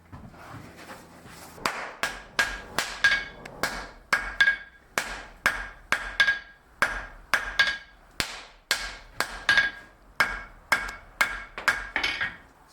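A blacksmith hammers wrought iron dividers to forge weld the joint: about twenty loud, ringing hammer blows in a steady rhythm, close up, with brief pauses and no talking.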